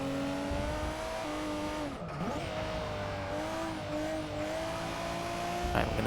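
A 2002 Nissan Skyline GT-R races around a track in Forza Motorsport 6, its engine a steady, sustained drone that shifts in pitch, with a brief tire squeal and no talking.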